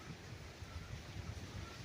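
Steady low wind rumble from an approaching typhoon buffets the microphone on a mango farm in Liliw, Laguna, a dull continuous roar with no voices, fairly faint throughout.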